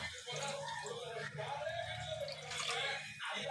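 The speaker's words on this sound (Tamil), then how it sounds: "பீட்ரூட் தண்ணி ஊற்றிக்கலாம்." Beetroot water pouring into semolina, a close splashing trickle with drips running steadily throughout, fairly soft and uninterrupted.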